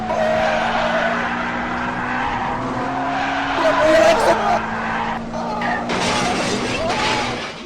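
A car accelerates hard and skids, its engine droning and tires squealing loudly, with a crash-like burst near the end; excited voices shout over the noise.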